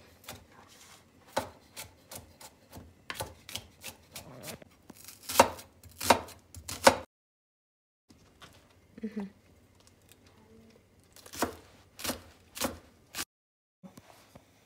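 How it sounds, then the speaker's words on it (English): A knife chops garlic rapidly on a cutting board in quick bursts of sharp taps, with pauses and a short stretch of quieter handling between them. "We're gonna start with cutting up the garlic."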